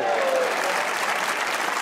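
Studio audience at a Pakistani comedy talk show applauds in a sustained, even burst of many hands, with faint voices mixed under the clapping.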